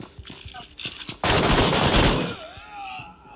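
Pump shotgun fire in a video game: a few sharp bursts and clicks, then a loud booming blast that decays over about a second, followed by a faint whirring tone, with some voice in the background.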